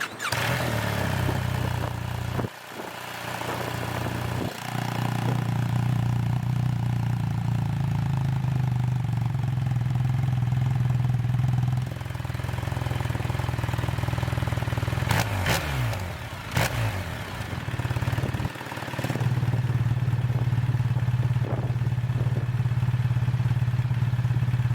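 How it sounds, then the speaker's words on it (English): BMW R 1300 GS motorcycle with automatic shift assist, engine and exhaust running steadily with a low throbbing note, brief rev changes and a few sharp pops around the middle, close and loud with no talking. "The bike just pops super nicely when downshifting in a manual mode."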